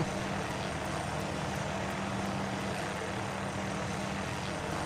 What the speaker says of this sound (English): In the distance there you can see the medical chopper on standby in case something happens